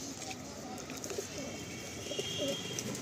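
Teddy pigeons in a loft, soft low cooing calls scattered through a faint background hiss, close but quiet, with a few brief rustles.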